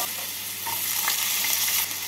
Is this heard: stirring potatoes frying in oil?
yes